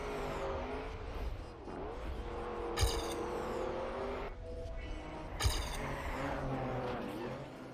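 A rally car in a snowy racing game accelerates steadily, its engine droning and revving with shifting pitch, punctuated by two brief clanking impacts, loud and close throughout with no talk.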